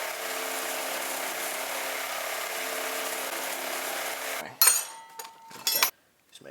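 Metal being cut for a knife thumb stud, a steady grinding, sawing sound held for several seconds, then breaking off into short rough bursts and a brief ringing tone before falling quiet.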